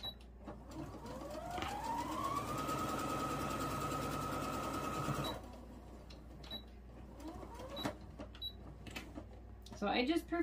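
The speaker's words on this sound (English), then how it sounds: "I just prefer to machine stitch when I can" A sewing machine stitching fabric for a handmade gnome whirs up to a steady, fast mechanical drone for a few seconds, then stops, followed by quieter clicks and handling noises.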